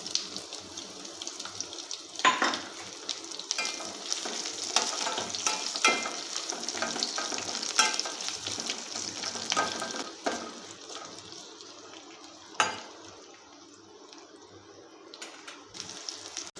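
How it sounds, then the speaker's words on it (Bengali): Chopped onion fries in hot oil with panch phoron and whole black mustard seeds: a continuous close sizzle and crackle, broken by sharp spoon-on-pan scrapes and clinks as it is stirred. "এবারে দিয়ে দেব পেঁয়াজ কুচি।"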